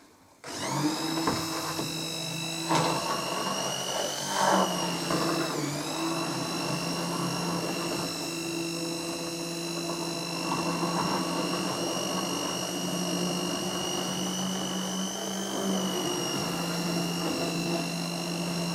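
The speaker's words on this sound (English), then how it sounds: "I have the mixer near the top and then just move it down." A hand mixer whirs steadily while blending bulletproof coffee, worked from the top of the cup downward to break up the floating fat; the motor drone is loud and continuous, its pitch shifting slightly as it moves.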